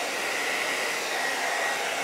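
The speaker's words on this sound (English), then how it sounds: "hairdryer on high," A hair dryer running on high from a Bluetti AC180 power station gives a steady, loud, even airy roar close by, with no speech.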